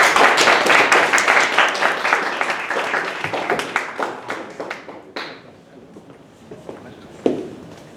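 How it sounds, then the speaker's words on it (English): Lively audience clapping greets a student speaker at a university English speech contest, strong at first and then thinning out to a few last scattered claps and a louder single clap near the end. "Let's give him a round of applause."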